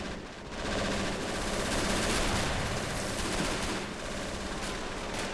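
Sustained machine-gun and rifle fire on a beach during the D-Day Normandy landings in Men of War: Assault Squad, a dense continuous barrage of overlapping shots with no voices over it.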